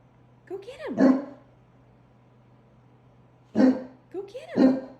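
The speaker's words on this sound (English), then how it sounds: "your dog's calling you" Short, loud barks with whiny yelps from a large English mastiff, three close bursts separated by a quiet pause, with no talking over them.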